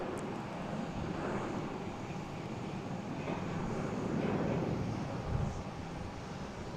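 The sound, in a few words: Lufthansa airliner taxiing out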